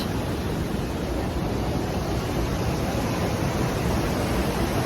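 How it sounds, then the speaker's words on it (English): Rushing water from a waterfall on a summer hiking trail near a bridge, a steady loud broadband roar with no breaks, washing over everything with no voices. "You can see the waterfall."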